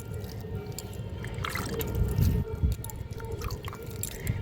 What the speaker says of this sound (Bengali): এই গাছেও জল দিয়ে দিচ্ছি।